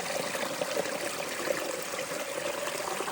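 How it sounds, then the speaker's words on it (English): Water trickles steadily at a trail water source on a Pacific Crest Trail thru-hike, a close, continuous bright babble with no voices over it. "Look at this beautiful water source"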